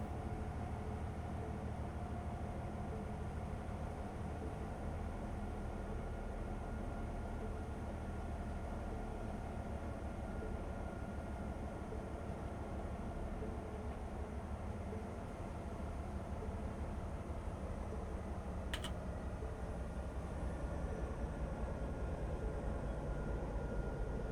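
A train reversing in the video game Train Life: A Railway Simulator, with a steady, continuous rumble of engine and rolling stock that holds an even level throughout.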